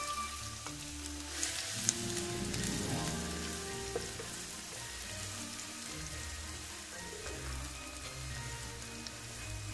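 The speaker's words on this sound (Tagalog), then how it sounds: "So, igisa na muna natin ang onions." Onions sauté in a hot pan with a continuous crackling sizzle under soft background music, with occasional stirring noises.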